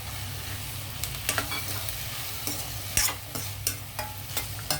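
Broad beans, green peas and chopped tomato stir-fry in a pan with a continuous sizzle, broken by repeated scraping and clattering strokes of a spatula, close by.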